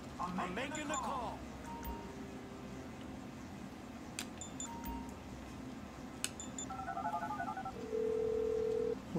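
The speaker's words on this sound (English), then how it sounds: "Phone it in. I'm making the call." In Grand Theft Auto V, a phone dials a call with a series of short DTMF keypad tones, then a steady ringing tone, over a low game rumble and talking.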